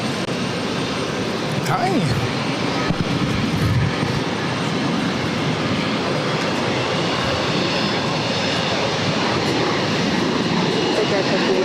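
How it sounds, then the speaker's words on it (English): An American Airlines Boeing 737 takes off on runway 22 right at Boston Logan, its engines a loud, steady broadband roar that holds throughout, with a brief spoken greeting early on. "American 737 now rolling down at 22 right"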